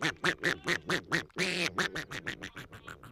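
A duck quack sound effect played during a T10 cricket broadcast for a batsman dismissed without scoring, a rapid series of loud nasal quacks in a steady rhythm with one longer quack near the middle.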